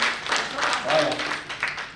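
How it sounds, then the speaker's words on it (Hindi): A burst of applause at a distributor training session, with clapping throughout, mixed with voices and cheering from a crowd, loud and steady for a couple of seconds. "एक बार भाई के लिए जोरदार तालियां"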